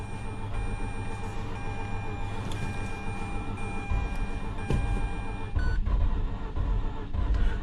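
A Mazda RX8 rotary engine bought cheaply at auction is cranked in an attempt to start it. A steady mechanical drone with tonal whine runs throughout, and rougher low bursts come near the end as the motor nearly catches.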